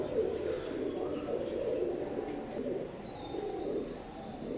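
Oman bloodline teddy pigeons coo softly in a continuous low, throaty murmur, faint and steady, with a light hiss of background noise.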